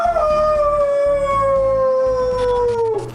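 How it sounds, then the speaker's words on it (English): A howl bursts out during a critical hit in the video game Golden Sun, one loud sustained cry that slowly glides downward in pitch across about three seconds over a busy game-music bed. "It's just, it fills up with energy and it lets out a howl"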